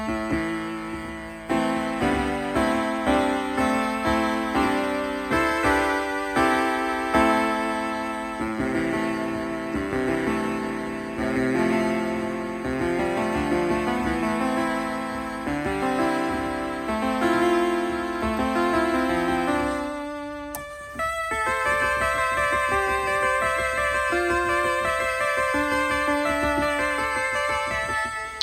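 A modded Casiotone CT-101 keyboard plays a busy run of bright, gritty, bit-crushed synth-like notes in a continuous melodic pattern, then changes to a thinner, sharper patch for the last few seconds, with no talking.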